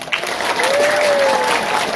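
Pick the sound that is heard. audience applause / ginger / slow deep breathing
audience applause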